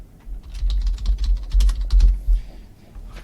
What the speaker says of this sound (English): you're able to type in the information